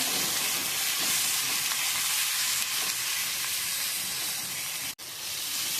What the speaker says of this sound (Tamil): லைட்டாக பொன்னிறமாக ஆனதும் வதக்கிடுங்க.